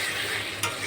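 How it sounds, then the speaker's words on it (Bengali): Curry masala stir-fried in a pot, a dense continuous sizzle with one brief scrape near the end. "তরকারি দেখেন ভালো মতো কষানো হয়ে গেছে, কষানো হলো"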